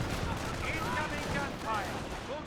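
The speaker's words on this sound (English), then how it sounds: "Mortar firing away." Mortar firing in Company of Heroes, a dense rumble of explosive thuds and battlefield fire rolling continuously at moderate loudness with no clear gaps.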